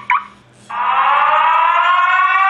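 A custom ringtone plays loudly from an iPhone, a sustained rising electronic tone after a brief chirp, close and steady with no voices.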